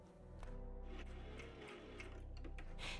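A Brother sewing machine stitches hair wefts for a closure wig, its motor whirring continuously with rapid, regular needle clatter and a few brief pauses. The machine is heard close and alone.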